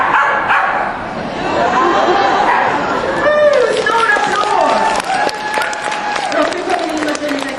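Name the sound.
audience applause at dog agility show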